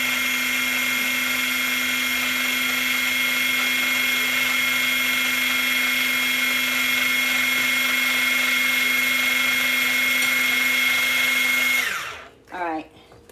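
An electric food chopper whirs steadily as it chops onions, a loud, close, continuous motor hum lasting about twelve seconds before it cuts off and spins down.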